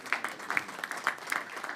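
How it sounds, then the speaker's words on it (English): Audience at a panel discussion on the U.S. Export-Import Bank claps for a speaker, a short stretch of scattered, fairly faint handclaps with distinct individual claps rather than a dense roar. "Give her another round of applause."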